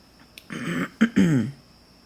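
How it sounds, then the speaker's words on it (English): A person coughs and clears their throat indoors: a small catch, then two or three harsh, close bursts within about a second, then quiet. "you can only listen to so much coughing and so much rattling of the camera"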